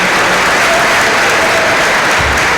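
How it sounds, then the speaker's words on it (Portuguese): A church congregation at St Mary's of the Assumption applauds Father Ray for 48 years of service, loud, continuous clapping filling the space with no pause. "uma salva de palmas para o Padre Ray."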